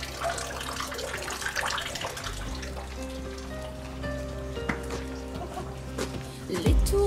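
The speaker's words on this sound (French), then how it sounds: "Une petite fontaine." A small fountain in the historic town centre of Josselin in Brittany splashes and trickles steadily close by, a continuous watery patter with faint background hum.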